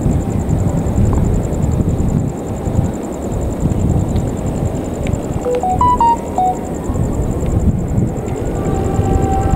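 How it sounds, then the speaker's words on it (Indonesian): The Argo Wilis passenger train pulls away from a station toward Bandung with a steady low rumble and wind buffeting the microphone, a few short squeals and tones rising briefly near the middle. "Selamat jalan kereta api Argo Wilis, semoga lancar, selamat sampai tujuan."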